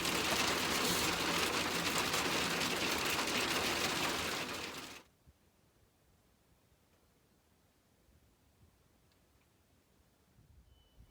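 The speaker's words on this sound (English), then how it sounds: "Well, it's hailing outside." Hail falls outside a camper, a loud dense hiss and patter on the roof that cuts off abruptly partway through, leaving near silence with faint scattered sounds.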